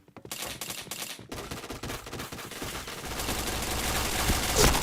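Bursts of automatic gunfire in a shooting video game, starting with a few distinct shots and then building into a loud, sustained fusillade that grows louder toward the end.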